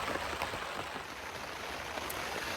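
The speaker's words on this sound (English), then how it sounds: "it's hammering it down with rain now" Heavy rain hammering down on a tent during a wild camp on Shatton Edge near Bamford, a loud unbroken patter and hiss very close around, no voices.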